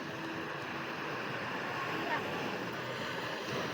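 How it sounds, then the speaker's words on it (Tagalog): Sea surf at a beach resort washes in a continuous broad hiss with light wind, steady and moderately distant, with no clear voices over it. "Dagat po yan."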